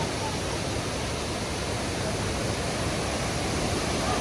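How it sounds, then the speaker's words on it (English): Steady, dense roar of rushing water filling the whole clip, the Chhapra waterfall in Kerala heard up close during the monsoon, with no voices. "So this is Chhapra waterfall"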